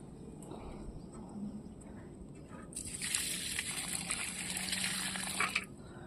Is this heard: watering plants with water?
yes